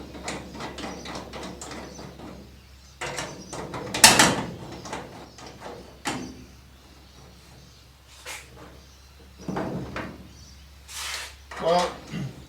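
Bolts going in on a Mk2 Ford Escort RS2000 under restoration: intermittent metallic clicks, ratcheting and clunks spread across the clip, with a sharper burst near the middle and a person talking in between.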